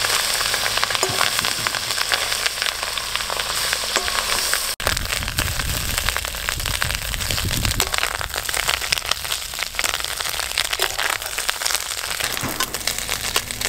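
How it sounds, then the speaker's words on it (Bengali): Fish roe fries in oil in a pan, a loud, continuous sizzle with crackling bursts and occasional stirring, close and without talk. "এই দেখুন মাছের ডিম আমি লাল করে ভেজে নিয়েছি,"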